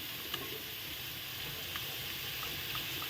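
Ground onion, garlic and chili paste sizzles steadily in a hot pan for fish curry, a continuous close hiss with a few faint stirring taps and no talking.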